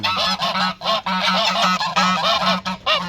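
Large white Çorum geese honking loudly and close, a dense chorus of repeated harsh calls with only brief pauses, several birds overlapping throughout.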